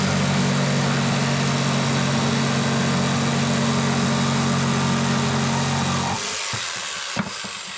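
A power saw cuts off the end of a splitting hatchet's wooden handle, a loud steady motor whine for about six seconds that then winds down, ending in a couple of knocks.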